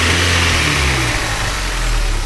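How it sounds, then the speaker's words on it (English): A VW Golf convertible with the ABF 16-valve engine idles steadily, giving a smooth, continuous low hum with a constant rumble close by and no speech. "nice steady idle."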